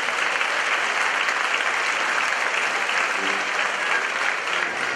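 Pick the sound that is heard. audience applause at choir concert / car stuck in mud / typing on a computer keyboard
audience applause at choir concert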